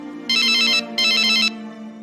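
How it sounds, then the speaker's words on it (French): Telephone ringing in two electronic bursts separated by a short gap, loud and close, with a steady low hum underneath. "Téléphone."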